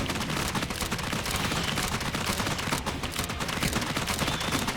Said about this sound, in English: The gun noise could be a lot better.